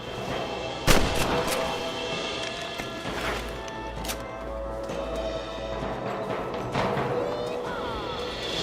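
Gunfire from the Western video game Red Dead Redemption on Xbox 360: a loud sharp shot rings out, then scattered further reports follow amid a busy game soundscape, with voices calling out over the action.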